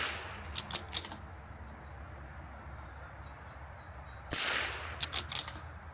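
Two distant rimfire rifle shots ring out during precision target shooting, several seconds apart, each a sharp crack followed by a few quick metallic clicks, over steady low outdoor background noise.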